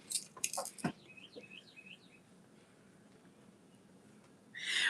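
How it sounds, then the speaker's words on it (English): A cardinal in a backyard sings a quick run of bright, repeated chirping notes, faint to moderate, followed by quiet background and a louder burst of bird calls at the end, with no talking. "We do have a loud cardinal."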